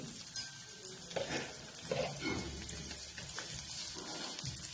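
Cumin and mustard seeds hit hot oil in a pan for a quick breakfast dish, giving a soft crackling sizzle with light utensil clinks and stirring, moderately close.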